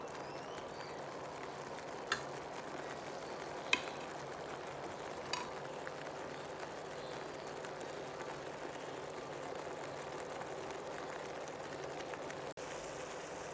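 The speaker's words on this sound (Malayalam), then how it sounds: "ഇതിപ്പോൾ നല്ലോണം തിളച്ചിട്ടുണ്ട്" Tomato chicken sauce bubbling in a pan over medium-high flame, a steady soft simmer with low bubbling texture throughout and a few faint utensil clicks, no talking.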